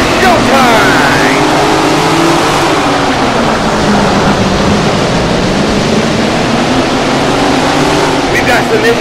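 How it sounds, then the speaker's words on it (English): Sprint car engines in the Tony Stewart Sprint Car Racing video game roar as the field rolls to the line. The loud, steady, dense engine noise runs throughout without a break. "Listen to those engines roar as they roll to the line."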